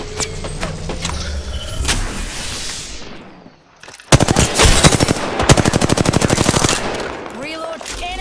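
Rapid automatic gunfire in the shooter game Apex Legends, with earlier scattered shots and rumble giving way to a long, loud, evenly spaced burst of close shots.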